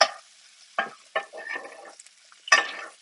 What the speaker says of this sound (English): the butter, when it melts, is going to brown because of the heat of the pan